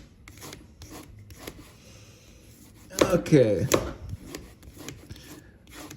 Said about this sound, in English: So we're just going and filing, actually sanding